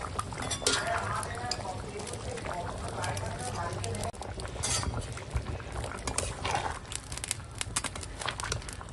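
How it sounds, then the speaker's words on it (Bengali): Goat meat and potatoes simmer in a pot, giving a steady low bubbling under continuous nearby talk, with occasional clinks of a spoon against the cookware. "আর দেখো এখন মাংস আলু সব সিদ্ধ হয়ে গেছে।"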